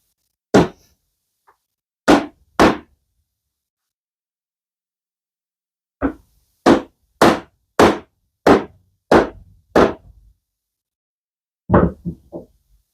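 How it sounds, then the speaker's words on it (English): A hammer taps a wooden TV unit joint while it is glued together by hand, sharp close knocks in scattered pairs and then a quick run of about six even strikes, with silence between them. "hammer tapping both ends."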